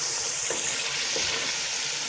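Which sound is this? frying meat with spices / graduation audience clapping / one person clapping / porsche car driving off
frying meat with spices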